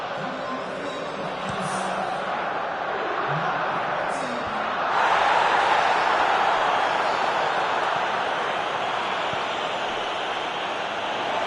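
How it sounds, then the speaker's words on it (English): A crowd gives an ovation in the football video game eFootball PES 2020, a broad roar of applause and cheering that swells louder about halfway through and then holds steady. "the hat-trick hero gets a lovely ovation from the crowd"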